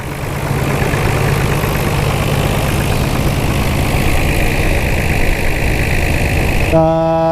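A modified 1991 Nissan Skyline R32 GTR idles close by with a loud, steady engine rumble, holding an even drone for several seconds before it cuts off near the end.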